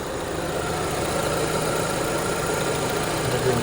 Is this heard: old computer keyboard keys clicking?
no